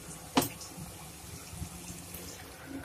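Boiled chickpeas and their cooking water are poured into a pan of fried masala for Punjabi chole, giving one quick splash and then a faint, soft trickle of liquid.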